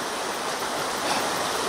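Creek water flowing steadily near a crossing point before a lake, a soft continuous rushing wash without breaks or voices.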